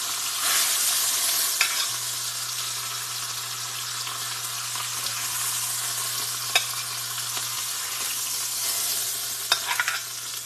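Ribeye steaks frying in a pan, giving a steady, bright sizzle that hisses continuously with occasional sharp pops and a faint low hum beneath, no talking.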